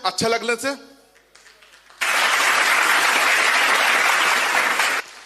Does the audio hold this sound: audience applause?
yes